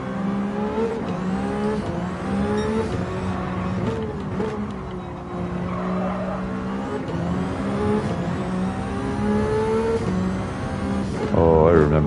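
A Group 4 Ferrari race car in Gran Turismo 7 holds a steady, loud engine drone with rising and falling pitch through gear changes and a sharp rev near the end, while people talk over it.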